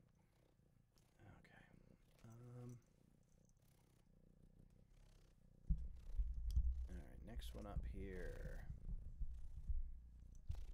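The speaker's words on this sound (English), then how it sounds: "Can you hear him purring in the microphone?" A cat purring close against a microphone, a low steady rumble that swells in the second half beneath a person talking nearby.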